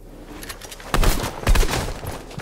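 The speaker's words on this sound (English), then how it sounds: "he's firing at me with an assault rifle" Assault rifle fire in Fortnite, a few bursts of rapid close shots with punchy low booms, heaviest in the second half, with no talk.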